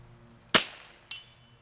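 A .22LR rifle shot fired at long range outdoors on a windy day: a sharp, loud crack followed by a short decaying tail, then a fainter second report about half a second later, like the distant bullet impact.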